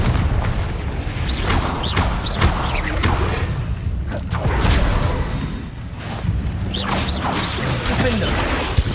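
A Confringo blasting spell explodes in the Hogwarts Legacy video game, with loud booming blasts and whooshing impacts stacked over dense, continuous combat noise throughout.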